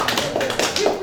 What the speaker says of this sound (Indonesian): Kayaknya kita harus kasih aplaus ini.